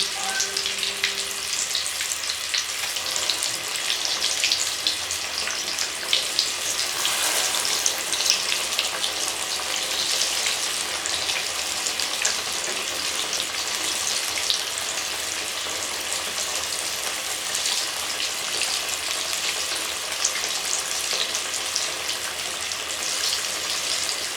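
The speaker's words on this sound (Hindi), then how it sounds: "इसी तरह हम थोड़े थोड़े करके फ्राई कर लेंगे।" Beef shami kababs shallow-frying in oil in a pan, a continuous dense sizzle that stays loud and even throughout, with faint background noises and no talk.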